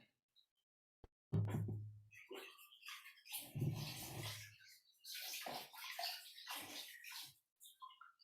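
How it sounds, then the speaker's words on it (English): Foot soak water poured into a toilet, arriving in two separate gushing pours followed by a longer stretch of splashing and trickling, close and fairly loud. "we can dispose of our foot soak water into the toilet"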